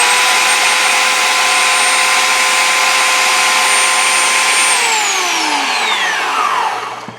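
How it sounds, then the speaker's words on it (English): A belt sander runs on a solar power setup with a loud, steady whine that holds for several seconds, then falls in pitch and trails off as the motor winds down. "now let's see what happens when I kick in the belt sander again"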